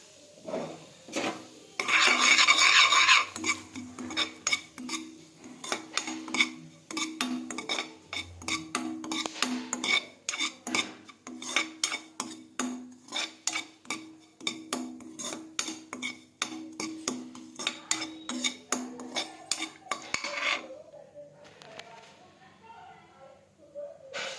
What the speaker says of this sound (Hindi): इस तरह से हम लोग रवे को देर तक का चलाएंगे।